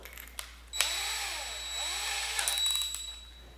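A power drill fitted with a hex bit drives small anchoring bolts during bunk bed assembly, whirring steadily for a few seconds with the pitch rising and falling, close by with no talk.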